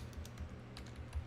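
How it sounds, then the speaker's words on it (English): Typing on a computer keyboard, quick quiet key taps in an uneven rhythm, close and soft, with no speech. "We can type in business"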